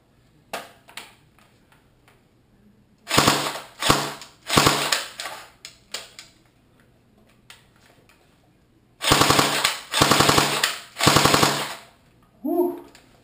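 An airsoft AK47 blowback rifle fires in loud bursts of rapid full-auto shots with a metallic mechanical clatter, several separate strings spaced apart and alone, with a brief exclamation at the end.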